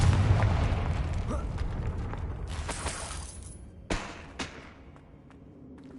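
Confringo spell blast in the Hogwarts Legacy video game, a deep booming burst at the start that decays over a few seconds, followed by two sharp crackling pops and a fading rumble.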